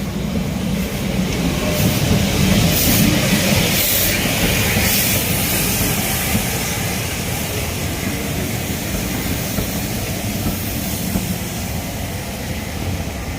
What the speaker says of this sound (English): the next train pulling the service was 45212, my favourite Black 5